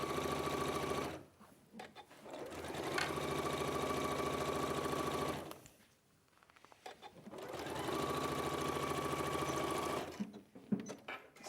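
A sewing machine stitches a rucksack bag in long steady bursts, with two short pauses between runs, close and loud with no voices.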